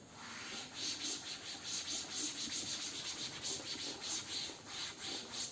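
Writing is erased from a classroom board during a physics lesson, giving a steady rhythmic rubbing and scrubbing of back-and-forth strokes, close and fairly quiet, with no speech.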